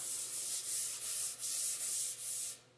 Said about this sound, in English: When I start hand sanding, I want to go around the barrel like this.